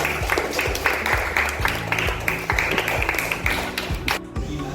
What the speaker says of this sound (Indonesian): Ya, tepuk tangan untuk kelompok 3.